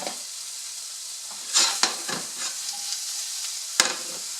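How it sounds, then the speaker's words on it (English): Sliced mushrooms sautéing in a hot frying pan, a steady soft sizzle with a few scraping stirs and clacks of a utensil against the pan, close and without talk. "We'll let that saute a little bit and put a lid on it so that the heat could stay and cook the mushroom really well."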